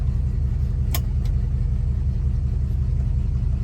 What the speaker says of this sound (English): There you can hear the fan.